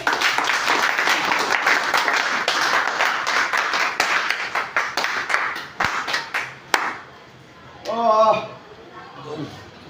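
An audience claps loudly and steadily for several seconds, then the applause thins into scattered claps and stops. A voice follows briefly.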